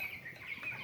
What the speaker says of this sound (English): These are Cornish rock cross broiler chickens, males and females.